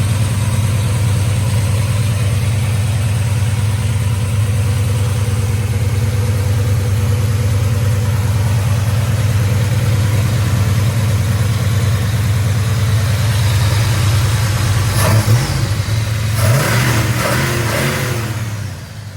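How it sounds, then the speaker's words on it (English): A 1968 Chevelle SS 396 V8 idles with a steady, deep, loud rumble close by, then near the end blips into a couple of short revs before settling back down. "Strong running motor."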